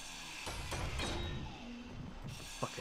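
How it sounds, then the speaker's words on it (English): Grinding and breaking blocks in the Space Engineers video game, a short burst of mechanical ratcheting and grinding noises with a few sharp clicks, moderately loud and without talk. "This is really satisfying doing this grinding stuff, breaking things."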